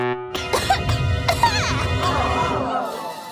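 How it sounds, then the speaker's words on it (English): Harsh bursts of coughing from a nearby person, several hacking coughs in quick succession, with a higher voice and some clatter mixed in. "Stop coughing."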